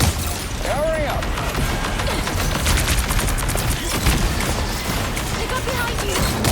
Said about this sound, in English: Rocket fire.